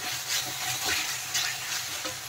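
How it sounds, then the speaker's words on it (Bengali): Spice paste for katla fish kalia sizzles steadily in hot oil as it is stirred, a dense close frying hiss with soft scraping strokes and no voices. "এই মশলা কষানো হয়ে গেছে ভালোভাবে"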